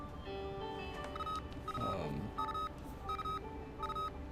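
A phone going off during an online tabletop game session: a short run of quiet electronic beeps and tones in a repeating pattern, faint under a low background hum.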